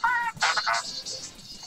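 A short text-message notification tone from a phone sounds near the start, followed by honking, goose-like game sound effects.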